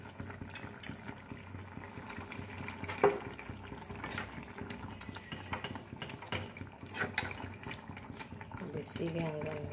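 Vegetables simmer in a pot of water for a fish curry, giving a steady, soft bubbling boil with occasional light clinks and a voice talking at times.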